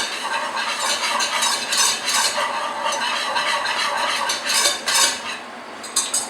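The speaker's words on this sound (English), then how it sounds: "My butter is melted down, so I'm going to add in our flour. Give that a stir to make our roux." A spoon stirs flour into melted butter in a pan to make a roux, giving a steady close scraping and soft sizzle that continues without pause and with no talking.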